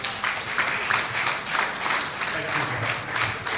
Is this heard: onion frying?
no